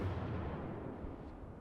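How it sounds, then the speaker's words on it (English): A destroyer's guns fire a salvo in the naval battle game World of Warships, a single loud, deep boom that rolls off into a long, heavy rumble with no talk over it. "Maybe one last salvo"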